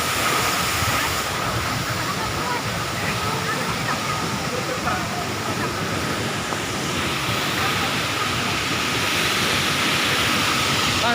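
Sikulikap waterfall at Brastagi roars as a dense, steady rush of falling water, close and loud, with no break for the whole stretch.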